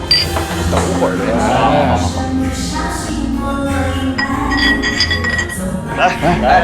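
Glasses clink together in a toast among friends at a drinking get-together, a few bright chinks ringing out over steady background music and a busy room.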